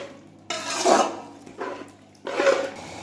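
Spices being fried and stirred in a pot for beef yakhni palao, with three bursts of spoon-scraping and sizzling coming close and fairly loud, separated by short pauses.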